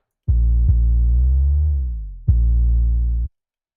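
A clean synth tone holds, slides up and back down in pitch, then restarts for a second held note; no voices.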